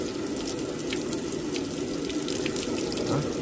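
Hot water runs steadily and loudly from a tap fed by a Junkers/Bosch-type gas water heater, a continuous close splashing rush with no pauses.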